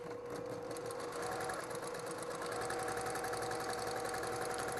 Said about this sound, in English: And I sew through just like this.